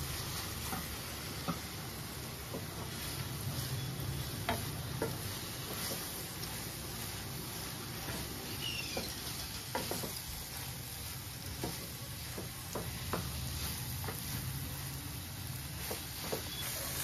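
Fried bitter gourd pieces stirred into a simmering tomato curry in a pan give a soft, steady sizzle, with a spoon clicking and scraping against the pan at irregular intervals, close and alone without talk.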